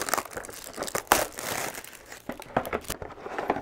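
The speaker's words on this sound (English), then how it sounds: "let's bust open this box" A cardboard box with packaging is opened, giving close, irregular crinkling and tearing of paper and card in uneven bursts, with no talk.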